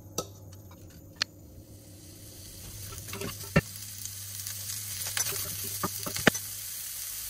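Onions frying in a thin drizzle of olive oil in a pan. A quiet sizzle builds gradually, punctuated by sharp utensil taps and clicks from stirring, heard up close with no speech.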